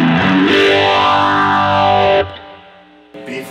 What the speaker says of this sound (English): But if you put the phaser, the modulation after the distortion,